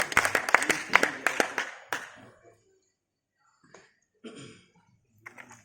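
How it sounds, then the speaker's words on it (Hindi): An audience claps in a burst of applause at a poetry recitation, dense clapping for about two seconds that fades out, followed by silence and a few scattered small sounds. "एक बार तालियां विक्रम विवेक जी के लिए आप सभी की।"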